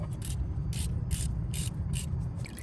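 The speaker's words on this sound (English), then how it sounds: "I'm on it with my ratchet and extension and socket combo and I'm gonna break it free." A ratchet with an extension and 10 mm socket works at a bolt on a 4.7L 2UZ-FE V8, giving a run of sharp rhythmic clicks, about five bursts, over a steady low hum.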